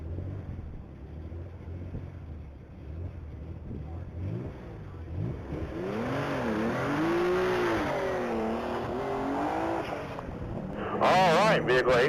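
Race car accelerating down the mile-long straight at the Texas Mile top-speed event, engine note rising and sweeping upward as it builds speed, steady wind rush throughout and a burst of higher whine near the end.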